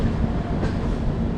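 A diesel locomotive from the Tughlakabad shed rolls past on rails near Ludhiana, a close, steady rumble of wheels and engine holding at full loudness through the short stretch.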